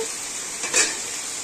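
Ginger-garlic paste hits a hot pan for a tengra fish curry, giving a steady close sizzle that flares briefly louder partway through, with no voices.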